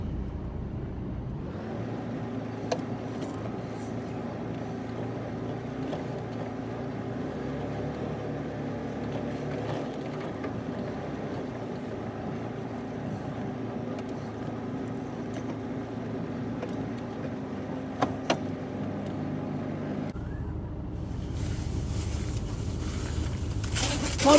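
An HGV truck's engine drones steadily at a moderate distance while the vehicle tips its load, with a few faint clunks partway through and a brighter rise in noise near the end.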